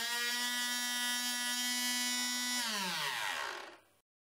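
A small homemade CNC router driven by optical-drive or printer motors whines at a steady pitch, then the tone shifts and slides as it moves, before winding down and stopping.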